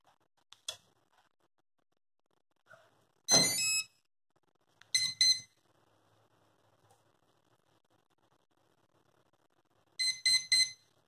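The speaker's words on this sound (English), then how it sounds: "That's the maximum and minimum values being set, followed by a single beep to show the number of LiPo cells connected" A Turnigy Plush ESC undergoing throttle calibration gives short tonal beeps in separate bursts, including a quick cluster of three beeps near the end, with quiet gaps and a few faint clicks between them.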